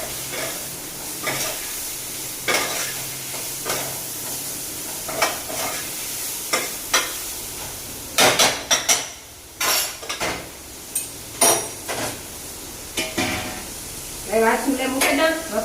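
A vegetable dish sizzles in a hot pan while tempering spices crackle, and a spoon scrapes and stirs in repeated sharp bursts against the metal. The frying hiss stays steady throughout.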